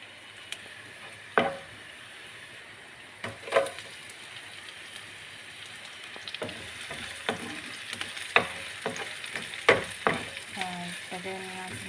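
Garlic frying in a pan: a soft steady sizzle with scattered sharp clicks and scraping stir sounds, fairly quiet, no talk.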